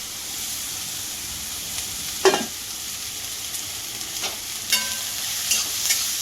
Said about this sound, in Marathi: तर यामध्ये कांदा आणि मिरची टाकली आहे आणि आपल्याला आता हे चांगलं परतून घ्यायचं.